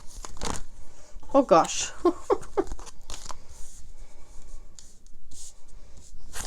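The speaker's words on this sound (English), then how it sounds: "I need to shuffle the pile." Tarot cards are shuffled by hand in short papery riffles and flicks, close and crisp, with a few separate bursts. A person speaks briefly over the shuffling.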